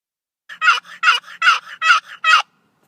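A wooden turkey call rocked by hand imitates a hen turkey's yelp: five loud, close, raspy bursts in an even, rhythmic cadence, with softer notes between them, and no voices.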